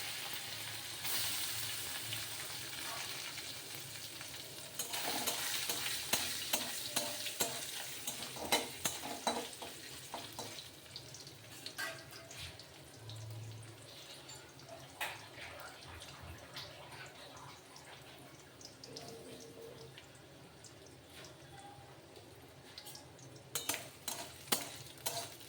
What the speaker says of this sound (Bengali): নারকেলটা যতক্ষণ একটু লালচে ভাব হচ্ছে একটু ততক্ষণ আমি একটু নাড়াচাড়া করলাম।